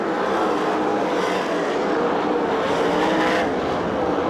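USAC/CRA sprint cars racing on the Perris, California track, a loud continuous engine roar that swells as the pack passes close by, with no talk.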